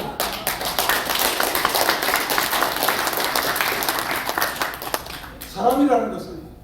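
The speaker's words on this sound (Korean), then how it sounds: "박수." Audience applause at an indoor commemorative launch ceremony in a press center hall. Dense, even clapping from a sizable crowd fills the first five seconds and then fades, followed by a voice speaking near the end.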